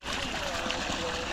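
Water flowing into a village paddy field, a steady close rushing wash with no pause through the brief moment.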